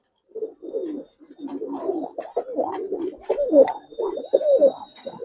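Giribaz pigeons cooing close by in a string of soft, throaty burbling calls, overlapping and continuous for several seconds.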